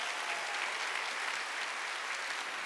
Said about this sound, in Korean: 깨달았으면 박수 세게 치라고요.